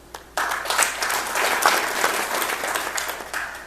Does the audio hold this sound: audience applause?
yes